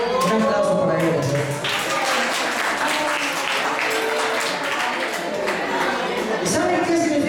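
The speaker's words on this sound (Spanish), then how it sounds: "Un aplauso para ellos" Audience applause at a talk for teenagers, a steady dense wash of clapping filling the hall from start to finish, with no speech over it.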